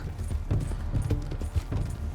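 Horse galloping in the video game Red Dead Redemption 2: rapid, rhythmic hoofbeats thud close and loud, a steady run of heavy clip-clop impacts over a low rumbling background.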